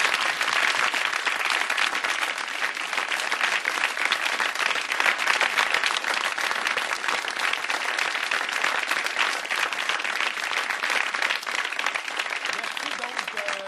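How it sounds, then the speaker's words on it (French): A studio audience at an economic debate breaks into sustained applause, with dense clapping that stays steady and even for the whole stretch and no voices over it. "Vous pouvez maintenant les applaudir tous avec plaisir."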